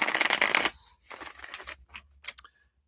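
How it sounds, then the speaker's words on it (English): Tarot cards being shuffled during a live reading, a dense riffling burst up close followed by softer intermittent card slides and taps. "I'm just going to shuffle these up here."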